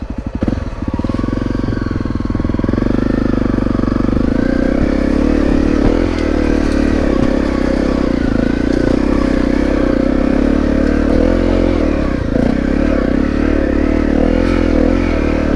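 A motorcycle on a loose, rutted dirt trail revs hard as its rear wheel spins, producing a loud, continuous close-up engine roar with rough clattering and scraping from the loose ground.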